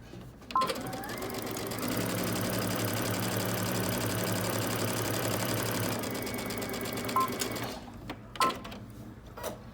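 A sewing machine stitches a 1.5 inch hem on a lining, running steadily at a fast even rhythm for several seconds after brief starting clicks, then stopping with a few thumps.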